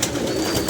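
Several pigeons kept on a rooftop coo softly and continuously in a low, murmuring chorus, fairly close, with no voices.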